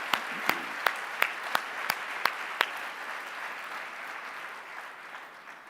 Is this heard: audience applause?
yes